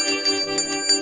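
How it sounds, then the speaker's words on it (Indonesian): A bell rings in a quick series of bright, resonant strikes, tones overlapping and ringing on, close and fairly loud. "Kemudian lonceng berbunyi."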